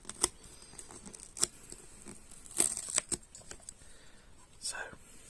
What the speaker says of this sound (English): Ripping it all the way off quickly definitely makes a lot of noise.